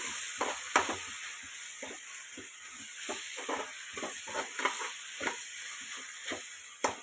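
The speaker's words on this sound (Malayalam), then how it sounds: "നന്നായി ഒന്ന് മിക്സ് ചെയ്ത് കൊടുക്കാം" Onions and tomatoes frying in a cooker sizzle softly while a spoon scrapes and stirs them in repeated uneven strokes, close and fairly quiet, with no talking.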